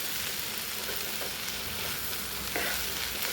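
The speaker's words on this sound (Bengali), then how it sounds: "চালটাও ডালের সঙ্গে একটু নেড়ে নিচ্ছি" Washed gobindobhog rice stirred with two kinds of lentils in a hot pan for khichuri, a steady, close hiss of frying with soft scraping from the stirring, no voices.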